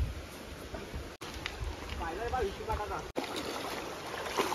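Water of a river flowing and trickling around wading feet on a nature trek, a steady close wash with splashy bursts under the talk of people nearby.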